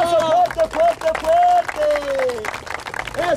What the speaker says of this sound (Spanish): Un aplauso para el payasito. Eso, un aplauso fuerte, fuerte